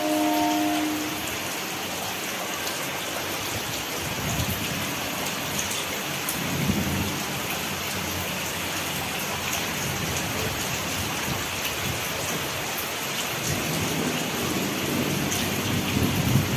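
Steady rain pours and patters on a rooftop terrace, a dense continuous wash with low rumbling swells, while pet dogs, a beagle and a doberman, are out in the downpour; no voices.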